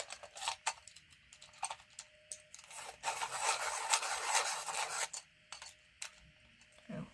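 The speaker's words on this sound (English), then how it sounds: "I do need to sharpen this a moment." A colouring pencil is sharpened in short, close raspy bursts, with several quick turns, a longer grinding stretch in the middle, and small ticks between them, all fairly quiet.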